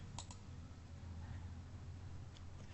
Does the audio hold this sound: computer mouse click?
yes